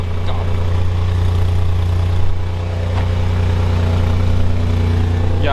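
A car engine idles loudly and steadily just after starting up, with a deep, continuous rumble and a few brief knocks, and a voice speaks faintly over it.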